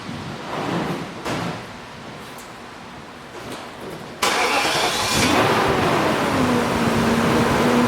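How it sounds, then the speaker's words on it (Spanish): The 4.4-liter engine of a 1998 BMW 540i cranks and catches, then settles into a steady, loud idle close by, after a few quieter mechanical clunks and handling noises. "Voy a prender el carro."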